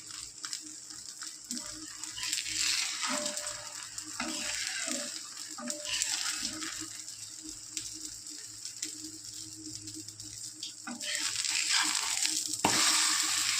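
Carrots sautéing in a hot pan for wheat dosa, a steady frying sizzle punctuated by scraping stirs of a spatula, close and moderately loud, growing brighter and hissier toward the end.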